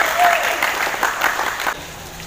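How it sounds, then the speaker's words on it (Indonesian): Students in a physical education lesson on athletics clap for their classmates, a brief, lively round of applause with voices mixed in, ending sharply after under two seconds. "Bagus, tepuk tangan buat"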